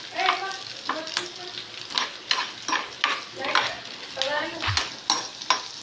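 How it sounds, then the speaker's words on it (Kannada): Egg masala gravy fries and sizzles in a pan while being stirred, with repeated scraping strokes of a spatula against the metal in an uneven rhythm, close and moderately loud, with no talking. "ಮತ್ತು ಇದನ್ನೊಂದು ರೌಂಡ್ ಹುರ್ಕೊಳ್ಳೋಣ."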